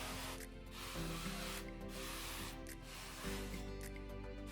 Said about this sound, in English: We're going to spray a little bit more oil on it.